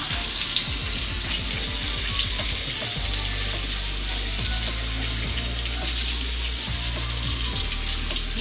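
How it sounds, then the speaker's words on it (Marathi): Bangda mackerel coated in semolina fries in hot oil with a steady, dense sizzle and crackle throughout, close and continuous, joined by watery bubbling and a low background hum. "मस्त फ्राय होतं बघा त्यावरती"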